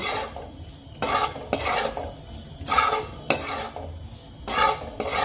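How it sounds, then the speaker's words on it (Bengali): Rice flour and salt are mixed in a bowl for bhapa puli pitha, with rhythmic scraping and rubbing strokes coming in repeated bursts, close and fairly soft. "এবার লবণটা কিন্তু চালের গুঁড়োর সঙ্গে খুব ভালো করে আমি মিশিয়ে নেব"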